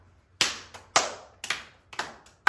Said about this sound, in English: All right, kids, clap your hands